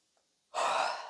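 A woman's single long, breathy yawn begins after a brief near silence, rising suddenly and holding as an airy exhale close to the listener.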